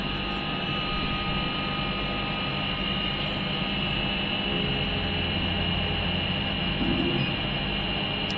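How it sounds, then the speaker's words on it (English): A laser cutting machine powers up and hums steadily, a loud, unbroken electrical drone with a faint hiss over it, continuous throughout with no voices. "we're going to turn the machine on because the controller needs to be live"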